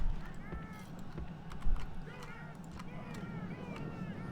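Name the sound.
horse archers galloping in Total War-style video game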